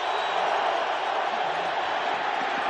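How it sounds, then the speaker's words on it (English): Steady roar of a stadium crowd at a 1995 NFC Championship football game between the Packers and Cowboys, a loud continuous wash of noise with no clear peaks and no distinct talk. "I think the crowd and the noise is bothering him"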